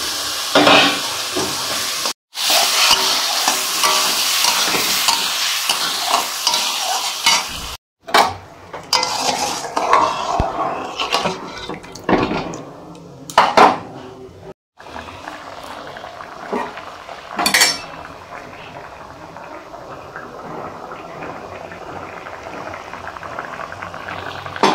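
Prawns cook in a pan for a Bengali prawn dalna, giving a steady, close bubbling sizzle with stirring and occasional scrapes of a utensil against the pan. Several brief pauses break the sound.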